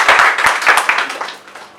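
Audience applause at a poetry gathering in Lahore, a short burst of close, dense clapping that fades out within two seconds.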